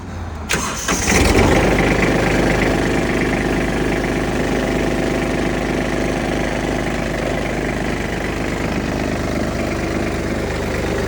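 Diesel engine of a 2003 Kubota GB200 tractor fitted with a rotary tiller, cranking briefly after glow plug preheating, then catching and running at a steady, loud, close idle with no talk over it.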